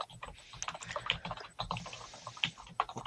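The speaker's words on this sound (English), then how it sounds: "Well, Brian's typing" Rapid, irregular clicking of keys on a computer keyboard, fairly quiet and close, with no voices.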